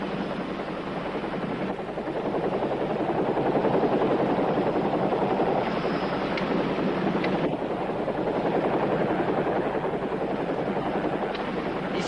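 A pink helicopter flies overhead, its rotor and engine producing a continuous loud whirring drone that holds steady throughout with no voices.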